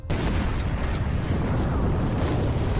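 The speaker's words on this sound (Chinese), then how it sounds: "随后用手枪将其引爆" A gas canister explodes in a zombie-film scene after being shot with a pistol: a loud, sustained broadband roar and rumble fills the whole span with no break and no voices.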